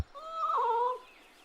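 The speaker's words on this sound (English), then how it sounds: "Assertive meow" A video game cat lets out one assertive, drawn-out meow that rises and bends in pitch, clear and fairly close, standing alone over a quiet background.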